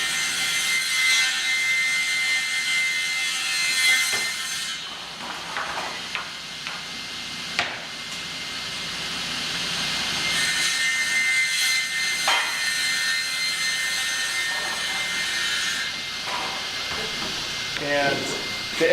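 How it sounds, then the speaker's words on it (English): A sawmill planing line planes rough-sawn oak into blanks, a loud continuous high-pitched machine roar that swells and dips as boards feed through, with a few brief knocks. "we run it through our planing line"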